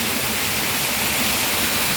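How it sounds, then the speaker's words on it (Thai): A garden waterfall or fountain in a butterfly park in the heart of a capital city, a steady, close rush of falling water holding an even broadband hiss for two seconds with no other sound. "น้ำตกน้ำพุอะไรเนี่ยครับ"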